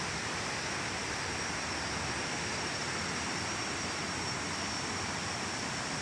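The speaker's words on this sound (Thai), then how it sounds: "นี่นะครับน้ำตกแก่งสีหมอกนะครับ ก็เป็นน้ำตกเล็กๆนะครับลาดชันลงมานะครับ" A small waterfall sloping down over the rocks at Kaeng Si Mok, heard as a steady, dense rushing roar of water that stays constant throughout with no voices.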